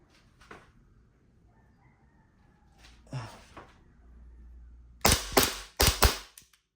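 A few sharp snapping shots from an Army Armament R609 STI Executive airsoft pistol, about 360 to 370 FPS, crack close by near the end, following quieter clicks and handling noises.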